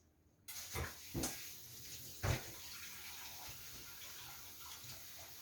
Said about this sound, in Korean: 기름을 빼는 거기 때문에 찬물에 바로 한두 번 섞어서 바로 헹궈주세요